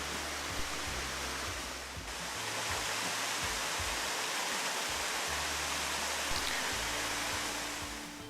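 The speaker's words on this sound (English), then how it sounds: "The falls themselves are superb. Unfortunately, not much water going down this time." Broadband rush of a waterfall in Tasmania running low, with little water going over the falls; a steady, even wash of falling water with no voices.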